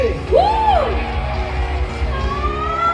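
A stadium crowd at a Chonburi FC fan event cheers, whoops and yells to welcome a player, a loud sustained roar with a rising whistle-like whoop early on and a steady bed of voices throughout.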